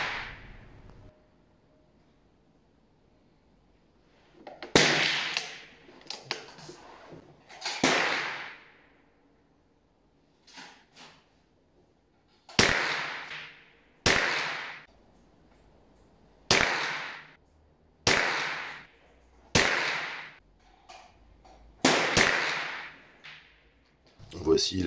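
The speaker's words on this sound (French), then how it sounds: "Voici la série de premiers tirs effectués." A series of sharp gunshots fired at an outdoor shooting range, about a dozen loud, cracking reports spaced irregularly a second or two apart, each with a short decaying tail, and no talking between them.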